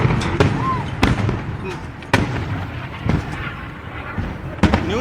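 Missile attack explosions in a war zone during the Israel–Hamas conflict, several sharp blasts spaced about a second apart, some near and loud, others more distant, over a rumbling background.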